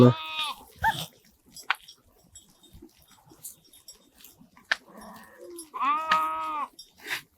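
A flock of large sheep bleats outdoors, with a few loud, close calls spaced across the moment and quieter rustling and shuffling in between.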